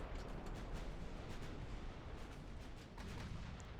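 Naval artillery fire in the warship battle game Ultimate Admiral Dreadnoughts, a dense, rumbling wash of distant gunfire and booms that rolls on continuously at low level without speech.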